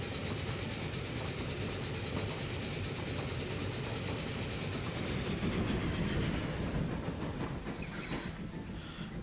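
A game train in Transport Fever 2 rolls along its rails, a steady, dense rumble of wheels and carriage noise that holds close and continuous throughout, with a faint high whine near the end.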